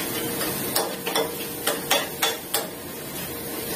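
Chopped onion going into melted butter in a pan, a soft sizzle under a series of sharp, irregular clinks and scrapes of a utensil against the pan, close and moderately loud, with no talking.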